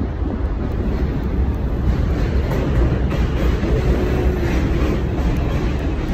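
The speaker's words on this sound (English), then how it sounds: "Another train come right behind it." Subway train pulling into an elevated station at Gun Hill Road on a hot day: a continuous loud rumble and roar of wheels and cars, with wind buffeting the microphone and no talk.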